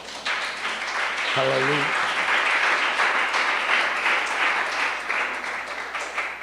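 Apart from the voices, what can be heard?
congregation applauding in church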